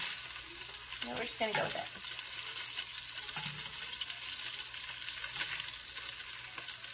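Meatballs browning in a frying pan for spaghetti and meatballs give a continuous close sizzle with a few utensil scrapes, while someone talks briefly over it.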